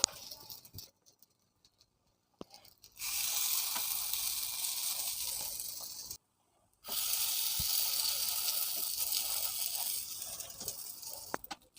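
Ghee vadas sizzle in a pan, a bright hissing fry that comes in two long stretches separated by near-silent gaps, with a few small clicks and taps between.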